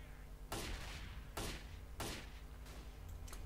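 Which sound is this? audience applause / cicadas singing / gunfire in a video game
gunfire in a video game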